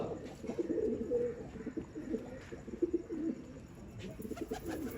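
Pigeons coo in a steady, overlapping chorus close by, soft throaty rolling calls repeating without pause, heard in a village setting with no talking.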